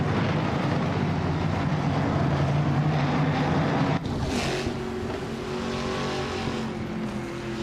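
Race cars from a 2021 Ford Mustang Delta field roar through a racing video game, a loud continuous engine drone with pitch shifts and a brief whoosh of a car passing midway.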